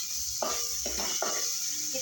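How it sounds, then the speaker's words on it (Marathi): Tomatoes being stirred into browned fried onions in a pan for mung dal khichdi: three close scraping strokes of a spoon over a steady background sizzle. "हे चांगलं मिक्स करून घेऊया"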